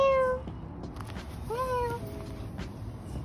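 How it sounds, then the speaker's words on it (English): Cats approaching outdoors let out two clear, drawn-out meows, one at the start and another a moment later, close and fairly loud over a faint background hum. "they were just like approaching me, meowing"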